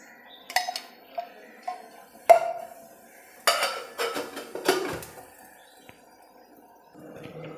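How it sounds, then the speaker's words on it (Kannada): A pressure cooker is set on a stove and handled to prepare a tempering: sharp metallic clanks and scrapes of pot and utensils, about a dozen close, loud knocks spread unevenly, with quiet gaps between. "ಒಂದು ಕುಕ್ಕರ್ನ ತೊಗೊಂಡು ಒಗ್ಗರಣೆಗೆ ಇಟ್ಕೊಳ್ತಾ ಇದ್ದೀನಿ"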